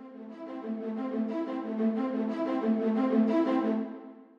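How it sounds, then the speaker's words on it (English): Virtual string instrument staccato patch played in Logic through Synchro Player, a loud close string passage with sustained harmonic tones and short repeated note attacks that rises slightly in level over four seconds, with no talk. "this is using this string patch over here and the staccato option"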